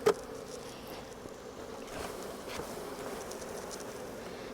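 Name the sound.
honey bees buzzing as hive box is shaken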